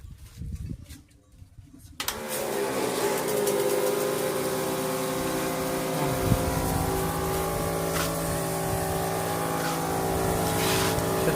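Custom-built sprayer with a Maraco double-pump dynamo rated 150 psi starts up after a quiet moment, then runs as a steady, loud mechanical whine and hum, close and continuous.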